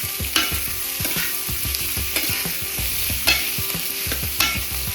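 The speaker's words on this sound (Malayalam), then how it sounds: "നമുക്കിപ്പം സവാള ഹൈ ഫ്ലെയിമിൽ ഇട്ട് വഴറ്റാം." Onions sautéed on high flame for a chicken liver dish, stirred with a spoon in a rhythmic series of scraping, tapping strokes over a constant background sizzle, close and moderately loud.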